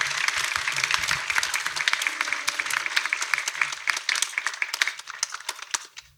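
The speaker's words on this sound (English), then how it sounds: "Let's welcome with applause together." An audience breaks into sustained applause, a crisp crowd of many clapping hands, loud at first and gradually thinning toward scattered claps at the end.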